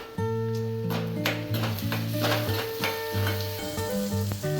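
Green chilies and onion fry in a pan for vagharelo rotlo, giving a steady close sizzle with occasional stirring scrapes, while a tonal hum plays underneath throughout.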